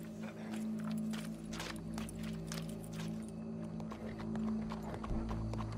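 Hooves clip-clop steadily on a hard surface over a humming background, with a faint whinny and jangling; moderately quiet and even-paced, in the video game Red Dead Redemption II.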